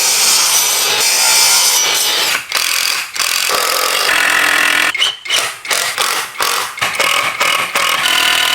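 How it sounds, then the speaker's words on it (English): A power planer shaving the rounded edge off 2x4 boards, loud and close, with bursts of cutting roar broken by brief drops as passes start and stop, no talking. "I went ahead and planed off the rounded edge on one side."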